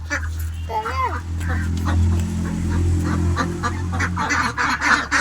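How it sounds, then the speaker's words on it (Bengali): Ducks at a village grandmother's house quack and call in a noisy, overlapping chorus close by, mixed with a person talking over them throughout. "এই যে এখন হাঁসগুলা কান্না করতেছে"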